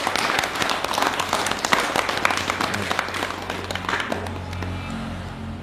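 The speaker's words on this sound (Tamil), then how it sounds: "அனைவருக்கும் நல்ல ஒரு கைத்தட்டல் கொடுத்துடலாம்" Audience applause at a naturopathy health talk in Trichy, a burst of scattered clapping that thins out and fades over several seconds, with faint talk under the tail.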